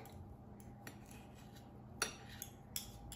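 A knife slicing through a microwaved baby potato on a plate, giving a few sharp, close clicks and scrapes of the blade against the dish amid quiet pauses.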